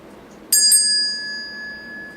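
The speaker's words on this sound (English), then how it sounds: "until you hear the small bell" A small meditation bell is struck, a quick second touch following, then a clear, bright tone rings on alone and fades slowly over quiet background hiss.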